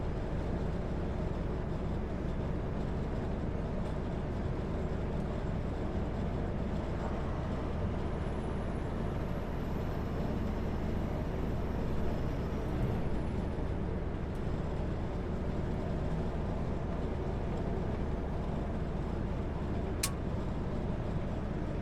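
A big rig truck passes on the Coquihalla Highway at night: a loud, continuous low road roar and engine rumble from inside a moving car, with a brief high whine midway and no talk.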